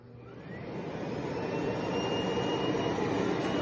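A Miele Blizzard CX1 Cat & Dog bagless canister vacuum cleaner switches on and runs, its broadband rushing airflow swelling over the first seconds into a steady, even roar with a faint rising motor whine and no talking.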